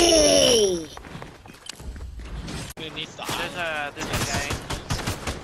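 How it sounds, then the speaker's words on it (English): Gunfire in the Fortnite video game: a loud opening burst followed by rapid bursts of game shots and mechanical clatter, with a voice talking over much of it. "I'm just going to shoot him"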